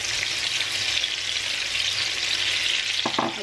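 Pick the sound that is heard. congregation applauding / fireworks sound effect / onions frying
onions frying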